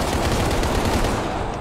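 Rapid bursts of gunfire from a virtual reality zombie game, dense continuous shots filling the whole stretch, loud and close with no clear pauses.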